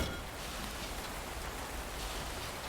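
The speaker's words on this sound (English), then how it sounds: "I can't do these things because it's raining." Steady rain falls on a vineyard, a soft continuous patter of drops with no voices over it.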